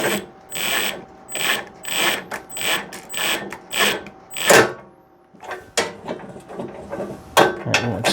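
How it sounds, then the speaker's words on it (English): A ratchet wrench clicks in rhythmic bursts while working on a faulty snowblower, about eight loud repeated ratcheting strokes followed by a pause and a few scattered sharper clicks. "ratchet has been freed"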